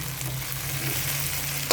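Cauliflower pieces for Gobi Manchurian deep-fry in hot oil with a steady, close sizzle while being stirred, and a brief scrape or clink is heard near the end.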